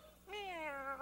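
A voice imitates a cat, giving one drawn-out rising and falling meow, fairly clear and close over a quiet background.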